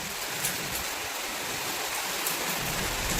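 Rain pours steadily outdoors on a festival day, a dense, even wash of hissing noise with no breaks, close and fairly loud, and no voices.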